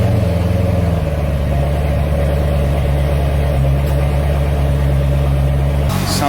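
C6 Corvette engine running at steady idle, a loud continuous low rumble close by with a constant droning hum and a slight shift in tone near the end.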